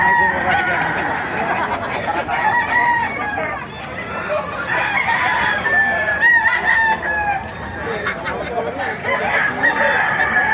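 A crowd of chickens clucks and chatters steadily at a rooster farm, with roosters crowing now and then above the din and voices talking in the mix.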